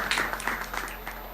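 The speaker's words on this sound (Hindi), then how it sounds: "एक बार जोरदार तालियों के साथ मैनपुरी से पधारे विनोद राजयोगी आपके बीच में।" Loud crowd applause greeting a poet from Mainpuri at a Hindi comic poetry gathering, a dense continuous burst of clapping lasting about a second and a half with no talk over it.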